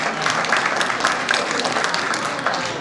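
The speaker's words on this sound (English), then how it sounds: "Round of applause." Comedy club audience giving a round of applause during a stand-up set, many hands clapping in a continuous full wash, loud and steady with no talking over it.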